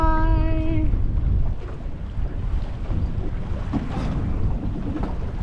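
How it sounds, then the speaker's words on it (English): Wind-driven flapping of a sailboat's mainsail as the boat turns into the wind, a loud, continuous rushing flutter with no speech. "There's the mainsail luffing."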